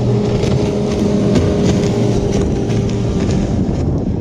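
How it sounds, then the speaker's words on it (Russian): A fishermen's motorboat with a powerful 115 outboard motor passes along a canal, its steady engine drone continuous and fairly loud throughout, mixed with wind buffeting the microphone. "Вот какой-то катерок едет."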